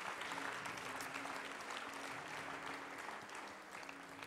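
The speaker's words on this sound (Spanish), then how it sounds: "Un aplauso al Señor," Sustained applause from a church congregation fills the room, a dense steady wash of many hands clapping at once that eases slightly toward the end.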